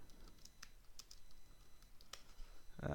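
Brisk clicking of a computer keyboard as a short search phrase is typed, irregular close keystrokes over a quiet room, ending with a heavier thump.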